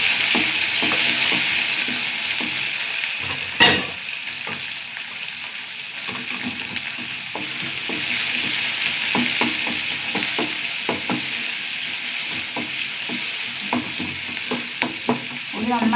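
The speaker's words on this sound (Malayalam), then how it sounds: "ഉള്ളി നന്നായി മൂത്ത് വരട്ടെ." Shallots fry in a pan with dried red chillies and curry leaves, giving a steady close sizzle with scattered stirring scrapes and one sharp clatter near the start.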